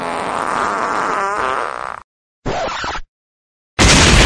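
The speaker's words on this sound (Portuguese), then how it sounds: "vou soltar um peido tão grande que vai fazer esse elevador cair" Loud, long fart in an elevator, a sustained buzzing blast of about two seconds, then two short bursts of noise separated by silence.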